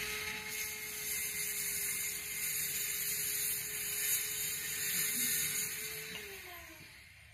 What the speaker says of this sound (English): And there goes the neighbor sawing stuff